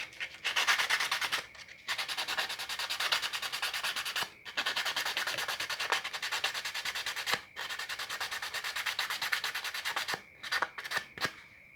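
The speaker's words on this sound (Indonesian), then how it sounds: "kita amplas nggak apa-apa" Sandpaper rubs steadily on acrylic sheet being shaped into raised letters, close and continuous, with long strokes broken by a few short pauses and quick scrubbing bursts at the end.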